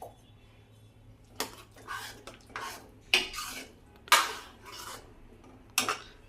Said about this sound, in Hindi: अब मैं ये सारे बर्तन जितने गंदे हो रहे हैं इन्हें साफ कर लूँ